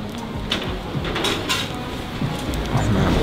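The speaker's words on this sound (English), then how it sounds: "It is raining quite hard now here in Istanbul" Hard rain falls on an Istanbul street with a loud, broadband wash. Clattering splashes and knocks come through it, and a few brief louder bursts rise over the steady downpour.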